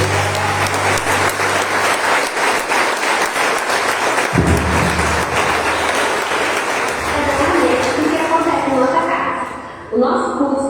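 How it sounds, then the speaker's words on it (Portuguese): A church congregation at a Sunday celebration service claps together in a full, loud burst, with music playing and voices underneath; the applause thins toward the end as the music carries on. "Dê um aplauso."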